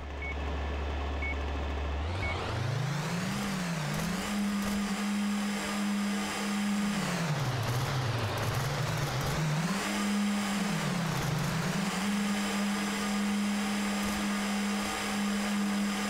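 A racing video game car engine drones steadily and revs up and down in pitch, rising after a quiet start and holding a loud, continuous tone throughout.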